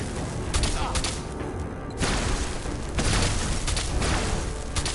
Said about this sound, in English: He's got some sort of lightning bazooka.